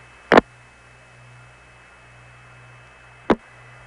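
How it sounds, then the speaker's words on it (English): A crossbar 5 long-distance telephone tandem switch handles a call, giving two short, sharp clicks about three seconds apart over a steady line hiss and faint hum. "Here's the sound of a call going through a crossbar 5 tandem."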